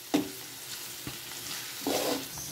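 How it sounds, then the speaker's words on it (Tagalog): Ginger, garlic and onion sauté in a pan, a soft steady sizzle broken by a few scraping stirs of a utensil against the pan, heard close and fairly quiet. "Ikayudin lang natin siya na medyo maluto yung luya."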